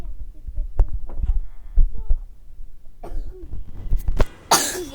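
A person with a fever coughs several times at close range, short harsh bursts spread across the clip amid breathy throat noise.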